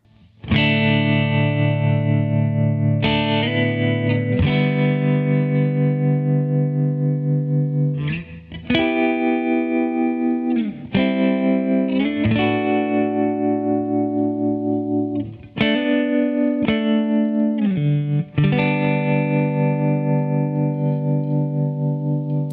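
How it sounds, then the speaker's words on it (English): Electric guitar playing sustained chords and notes through a reverb into tremolo effects pedal, loud and steady with pulsing volume modulation, a few short breaks between phrases, no talking. "R and T is reverb and tremolo. In that order, reverb into tremolo."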